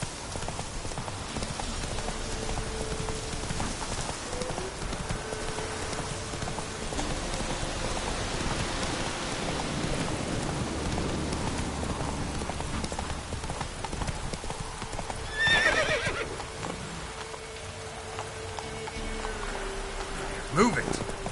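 In The Witcher 3: Wild Hunt, the horse Roach gallops through rain, hooves clopping in a quick steady rhythm over constant rainfall, with a brief voice urging the horse on.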